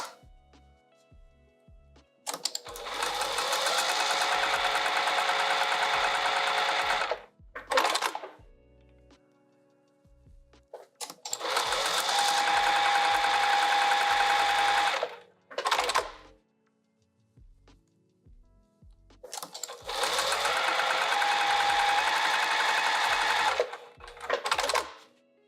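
Three long bursts of a sewing machine running steadily, top stitching folds of vinyl on a sling bag, each run lasting several seconds and separated by short pauses with light handling clicks, close and fairly loud.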